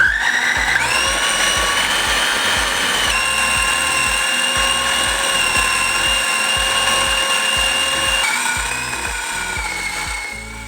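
An electric chopper grinds chicken keema with a loud, steady high-pitched whir, its motor pitch rising at the start and shifting slightly partway through before easing off.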